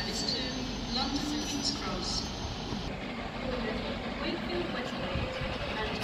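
A steam charter rail tour train runs through Doncaster station on the East Coast Main Line, giving a continuous low rumble and wheel noise with a brief higher tone.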